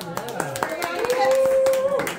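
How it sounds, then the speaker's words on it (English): At a live music bar, a small crowd claps in scattered, distinct hand claps while a sustained musical tone rings underneath and voices talk. "Give yourselves a round of applause."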